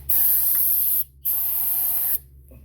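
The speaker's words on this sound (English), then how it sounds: "Let's get some spray just to get it started." Starting fluid sprayed into the Edelbrock carburetor of a 1964 Impala, two steady hissing aerosol bursts of about a second each with a short gap between them, close and loud.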